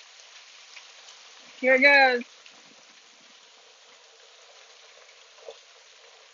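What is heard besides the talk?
hail and rain storm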